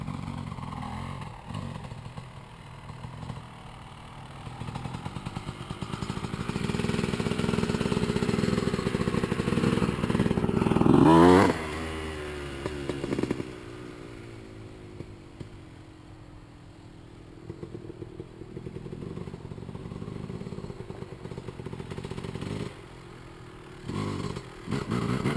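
A 250 dirt bike rides old trails while its rider tries wheelies, the engine droning and rising in revs mid-distance, with a brief louder rev burst partway through and no talking.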